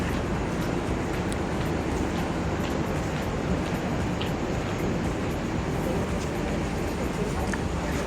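A night train waits at a railway station in Vietnam before boarding, with a loud, steady, close rumble of noise running throughout.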